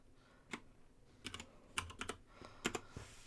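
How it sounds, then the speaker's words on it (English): Keys clatter on a computer keyboard in short irregular bursts of quick taps, close and soft, with no voices. "I'm going to type in a staff ID"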